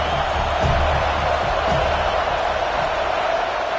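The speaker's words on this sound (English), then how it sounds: "This crowd is fired up. Listen to this noise here." Stadium crowd at a Florida State Seminoles college football game, a loud continuous roar that stays steady throughout with no distinct voices standing out.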